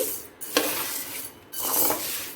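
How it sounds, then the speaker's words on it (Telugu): A spoon stirs urad dal being dry-roasted in a pan over low heat, giving soft scraping and rustling sweeps with two brief pauses, close and fairly quiet, without any talk. "ఇలా తిప్పుకుంటూ వేపుకోవాలి"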